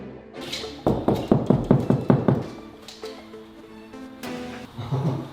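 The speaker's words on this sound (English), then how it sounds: "it's always important to give it the old knock test" Someone raps a knuckle on a garden room ceiling while marking out downlights, giving a quick run of about eight loud, hollow taps in a steady rhythm, then a few softer knocks after a pause.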